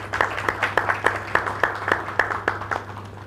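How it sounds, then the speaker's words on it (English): Shareholders at an annual general meeting clap in a small, sparse burst, a dozen or so distinct claps in a loose rhythm over a low steady hum in the room. "Clap if you want to clap."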